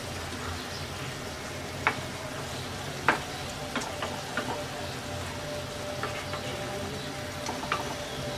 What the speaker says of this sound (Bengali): এবার ধনেপাতা কুচি দিয়ে হালকা হাতে নেড়ে নামিয়ে নেব